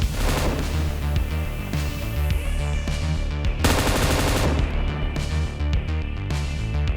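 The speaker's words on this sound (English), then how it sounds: "Light Machine Gun M249." An M249 light machine gun fires in PUBG Mobile, with dense, continuous automatic bursts of loud rattling shots and sharp cracks that barely pause.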